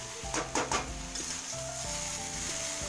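Chunks of bottle gourd hit hot oil in a pan with a burst of sizzling, then a steady frying hiss continues with a few scraping stirs near the start, no voices.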